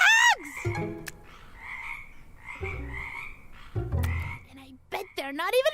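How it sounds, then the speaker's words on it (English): Frogs croak in a steady chorus of repeated low calls, with brief strained vocal sounds at the start and again near the end. "What about frogs?"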